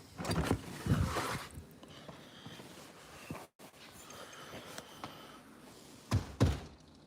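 A loose door banging, a few dull thuds early on and another pair near the end, fairly quiet against low room noise, with no talking.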